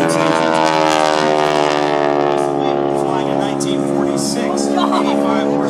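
A 1946 Piper J3 Cub with an 85 horsepower engine flies at an air show, its propeller engine droning loudly and steadily with a strong, even tone throughout.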